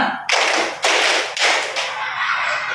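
A group claps hands together in a counted classroom pattern, five strong claps in a row with short gaps between them, close and loud, then fading out.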